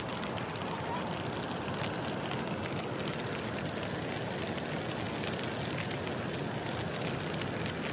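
Steady rain falls outdoors by a forest waterfall, a continuous even hiss at moderate level that never changes in intensity.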